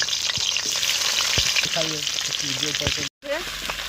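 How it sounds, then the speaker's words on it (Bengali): Rohu fish heads rubbed with salt and turmeric fry in a very hot pan of oil, giving a loud, steady sizzle and crackle throughout with a brief cut near the end. "কড়া গরম হয়ে গেছে, মাছের মাথাগুলো ছেড়ে দিলাম"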